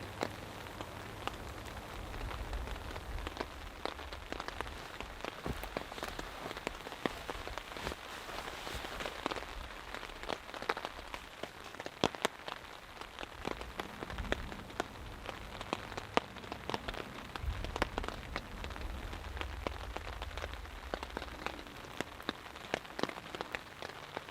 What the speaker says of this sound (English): Still raining. Very, very light, but it's raining.